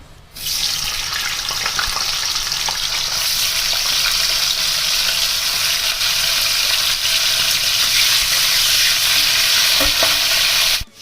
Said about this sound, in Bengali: তেল গরম হয়ে গেছে, এবার আমি কপিগুলোকে ভেজে নিচ্ছি।